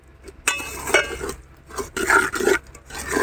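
Besan and semolina are stirred with melted ghee in a pan, a spoon scraping and rasping against the metal in irregular strokes, close and fairly loud with no talking.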